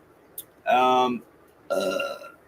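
Two long, deep burps in a row, loud and close, with a short pause between them.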